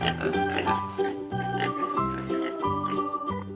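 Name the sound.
pig oinking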